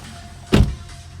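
The electric side mirror on a 2014 Hyundai i10 with a manual gearbox folds with a single short motor whirr, about a fifth of a second long, close by against a quiet background.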